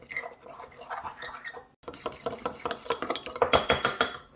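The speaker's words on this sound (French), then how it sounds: "Et on va chercher ici une fourchette ou une cuillère. Et on va mélanger ça pour faire une pâte." A fork or spoon stirs a paste in a bowl for homemade triangle tacos, with quick clinking and scraping strokes that grow busier and louder after a short pause.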